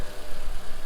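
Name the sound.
2014 Toyota RAV4 engine idling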